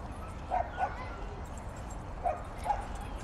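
A dog barks at a dog park, four short, faint yaps in two quick pairs, heard at a distance over low background murmur.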